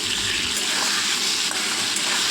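Cut pointed gourd dropped into hot mustard oil sets off a loud, dense, rushing sizzle that stays steady and close for the whole moment, with no voices.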